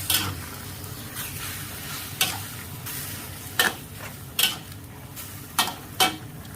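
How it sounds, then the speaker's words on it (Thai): Abalone sauce hits a hot pan, drawing a steady broad sizzle broken by several short metallic clinks and scrapes of a utensil, close up and with no talking. "นี่เ่าราดน้ำหอยเป่าฮื้อลงไปก่อนนะครับ"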